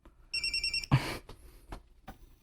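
A cellphone rings with a bright electronic tone, a short burst of repeated beeps followed by a thud and quieter noises, in a tense scene from a Cebuano drama.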